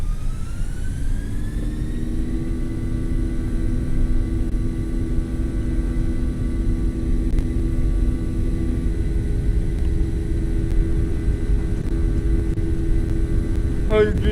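Airliner engines spooling up to takeoff thrust in a flight simulator, a steady loud jet roar with rising whine tones over the first two seconds, then holding constant throughout.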